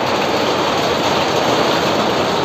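Steady, loud rain falls on a mountain trek to Tungnath in Uttarakhand, a dense continuous hiss and patter with no pauses and no voices.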